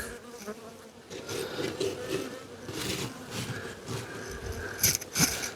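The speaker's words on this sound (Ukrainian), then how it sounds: "Ну, Бджола вже нервується, що до неї хтось вулик лізе" Agitated honeybees disturbed by an opened hive buzz in a dense, wavering drone up close, with occasional louder passes and faint handling noises underneath.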